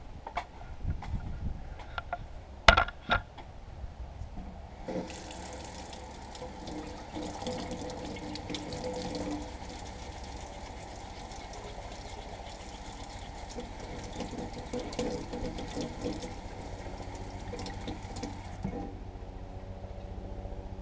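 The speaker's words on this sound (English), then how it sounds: "Let's go rinse it off right quick so we can see it better." A knife with paint on its blade is rinsed under a running tap, a steady close rush of water flowing for most of the stretch after a brief clatter at the start, then cutting off near the end.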